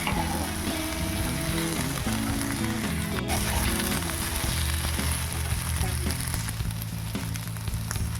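Vegetables with onion frying in a kadai as they are stirred, a dense continuous sizzle with scraping over a steady tonal hum in the background.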